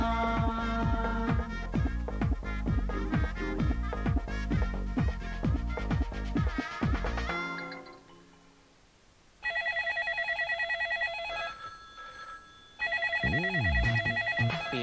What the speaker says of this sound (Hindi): कब से एम्बुलेंस की सायरन की तरह से ये फोन की घंटी बज रही है